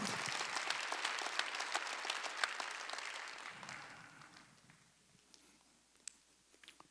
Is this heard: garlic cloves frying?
no